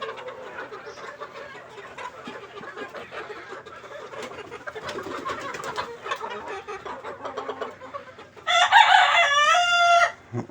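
A flock of hens clucks steadily in a poultry farm and hatchery shed, with busy overlapping calls. A rooster then lets out a loud, close crow lasting about two seconds before the flock settles again.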